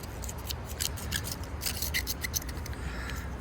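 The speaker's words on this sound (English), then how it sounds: "Scraping it out." Close scraping and rasping as grime is dug out of a vintage bone-handled Kutmaster pocket knife, a run of short gritty strokes over a low background hum.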